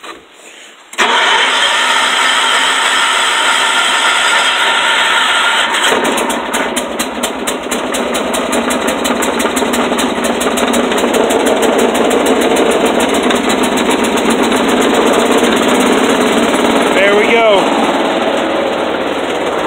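A John Deere 210 lawn tractor engine cranks and catches, then settles into a loud, steady, close idle with a rapid mechanical pulse, outdoors on a windy day.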